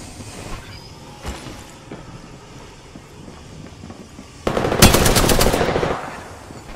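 Gunfire in Apex Legends: a few scattered distant shots, then a loud rapid burst of automatic fire lasting over a second, trailing off into fainter shots.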